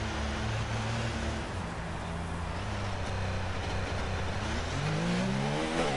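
A Red Bull Formula 1 car in a racing video game holds a loud, steady high-revving engine drone throughout, its pitch sweeping upward near the end.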